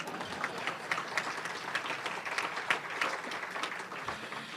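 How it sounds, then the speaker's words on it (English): A modest room of people applauds at a Rotary club meeting, a dense, steady patter of clapping at moderate volume that carries on evenly without voices. "More applause, Nelson."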